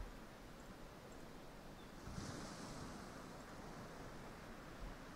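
Ocean waves from the video game Ylands wash continuously as a steady, broad rushing surf, with a slightly stronger swell partway through and no voices.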